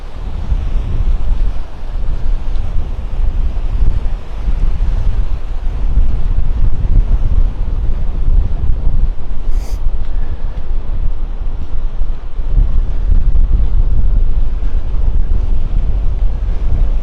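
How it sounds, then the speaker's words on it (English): Strong wind gusting and buffeting against the microphone on a beach, a continuous loud roar with surging swells, no voices. "It is windy up here, my friends."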